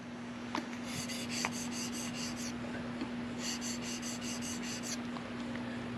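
A blade is sharpened on sandpaper stuck to a vehicle windshield, giving close, steady scraping and rasping strokes in repeated bursts that pause briefly mid-clip, with no talking.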